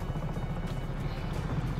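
Steady, loud drone of a helicopter's rotor and engine in the video game Just Cause, a continuous low throbbing rumble with no pauses.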